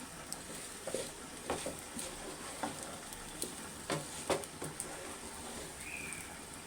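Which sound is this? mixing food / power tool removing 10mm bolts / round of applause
mixing food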